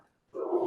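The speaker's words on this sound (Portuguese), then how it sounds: "vocês estão escutando aqui, né, meu cachorro latindo" A dog barks or growls once, fairly loud and close, in a short burst after a brief silence, with no talk over it.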